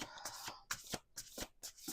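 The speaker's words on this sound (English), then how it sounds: "2 more shuffles." A deck of playing cards is shuffled by hand, a run of crisp riffling bursts with short gaps between them, close and clear with no talking.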